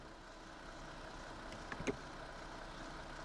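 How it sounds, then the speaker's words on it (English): A 2019 Chrysler Pacifica engine idling, a steady low mechanical hum that holds evenly throughout, with a couple of brief faint clicks partway through. "the engine's running"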